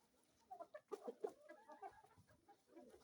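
Hens on a Kienyeji chicken farm cluck in short, irregular bursts, several birds close by with a busier cluster of calls in the middle and softer clucks trailing off.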